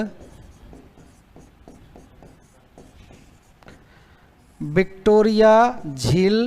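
Chalk or marker scratching out a point on a classroom board in quick, faint, rhythmic strokes, then a voice starts talking loudly up close.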